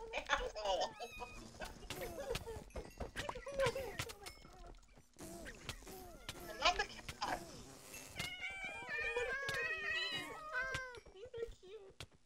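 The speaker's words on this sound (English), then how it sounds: "Oh my god, the cats are escaping, guys." Several cats meow and yowl repeatedly, close and insistent, while people talk, shout and laugh over them.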